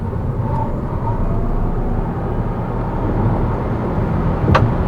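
A 2023 BYD Dolphin electric car accelerates hard from 0 to 100 km/h in sport mode, heard from inside the cabin as a loud, continuous road and wind roar that swells slightly toward the end.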